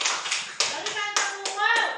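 Schoolchildren applauding a classmate group in a classroom, a brief burst of close clapping mixed with children's voices calling out over it.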